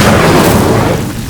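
Incendio fire spell cast in Hogwarts Legacy, a single loud whooshing burst of flame that swells instantly and fades over about a second.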